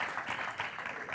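Brief burst of audience applause, a short wash of many hands clapping, moderately quiet and continuous for about a second.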